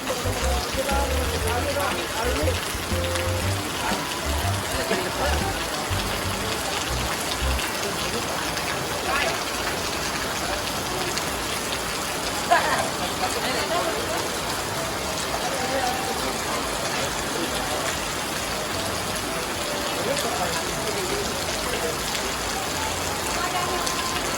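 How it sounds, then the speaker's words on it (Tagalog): Heavy rain pours steadily at a family farewell gathering in the Philippines, a continuous broadband hiss of drops on surfaces running the full length, with faint voices and activity buried underneath. "maliligo muna kami sa ulan"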